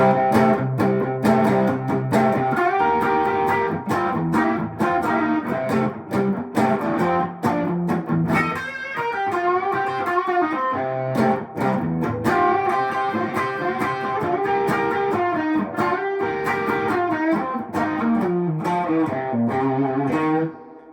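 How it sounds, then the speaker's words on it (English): An overdriven electric guitar, a Collings I-35 LC or I-30 LC on its bridge pickup through a Tube Screamer into a Deluxe Reverb amp, plays a driving rock riff with bright, crunchy chords and single-note runs, steady and loud throughout. "Put on my tube screamer, going through a deluxe reverb. Stay in the bridge pickup, great rock and roll sound."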